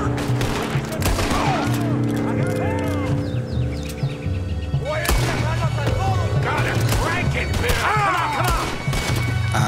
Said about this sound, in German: Jetzt schießen wir auf euch.